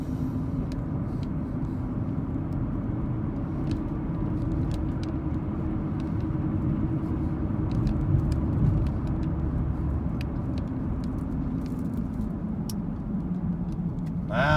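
A car driving through hilly residential streets in northeast Cleveland, Tennessee, gives a steady, close road and engine rumble with tire noise that stays even throughout and has no talk over it.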